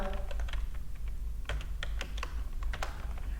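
Fingers type an invoice number on a computer keyboard while an invoice is being built in MS Word, giving a quick, irregular run of close, crisp key clicks over a low room hum, with no one speaking.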